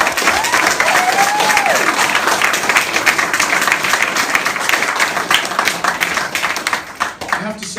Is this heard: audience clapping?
yes